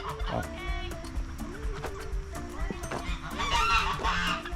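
Chickens and geese cluck and honk together in a busy, continuous chorus, with a brief louder flurry of squawking toward the end.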